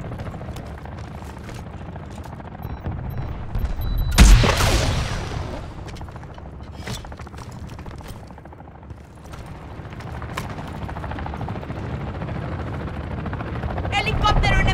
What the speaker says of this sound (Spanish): Helicóptero enemigo abatido.